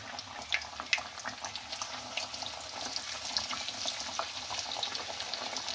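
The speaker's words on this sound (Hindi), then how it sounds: "अब इस साइड से भी इसको फ्राई कर लें।" Coated pieces of fish fry in Pakistani-style oil in a pan with a soft, steady crackle and many small pops. The sound is fairly quiet and close, with no voices.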